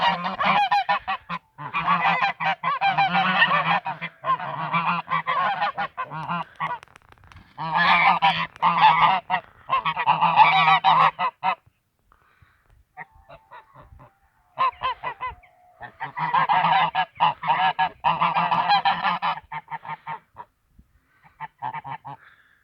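A flock of geese honks loudly and close by in repeated bursts of raucous calling, separated by short quiet gaps, with softer scattered honks in between.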